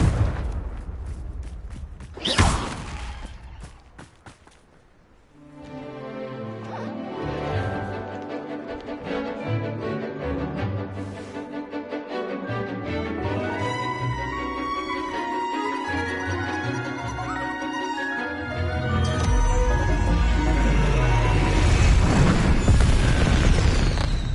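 A Confringo fire spell from the Hogwarts Legacy wizarding game bursts with a sharp boom early on, followed by a long, loud stretch of layered game score and rumbling effects that swell toward the end.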